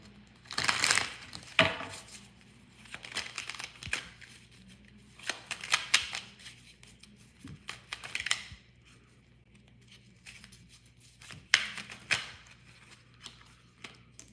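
Tarot cards being shuffled by hand in short crisp riffling bursts, close and clear, separated by quiet pauses with soft handling noises and a voice speaking faintly.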